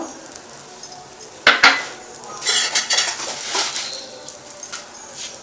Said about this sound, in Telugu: ఇప్పుడు మిగిలిన నెయ్యిలోని సేమియా ఫ్రై చేసుకోవాలి